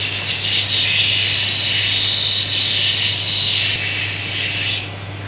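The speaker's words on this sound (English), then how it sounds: "I'm just going to go into the fine grinder and get rid of the finer grinding marks" A fine grinder works an agate cabochon with a steady, loud rasping whir and hiss over a constant motor hum, holding evenly for several seconds before easing off at the end.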